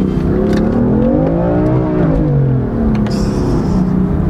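A BMW M4 engine roars loud and close as it pulls hard, its pitch rising and then dropping at each gear change across several shifts, with no talking.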